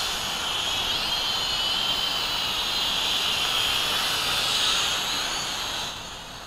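SYMA X5C 2.4G quadcopter drone flying outdoors near a picnic table, a steady high-pitched rotor whine that holds level throughout and eases slightly at the end, no talking.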